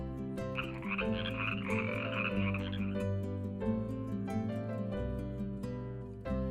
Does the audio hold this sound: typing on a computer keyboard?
no